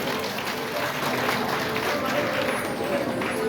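An audience at a Shrimad Bhagavat Katha gathering claps in welcome, a dense, steady wash of applause that runs throughout while a voice carries over it.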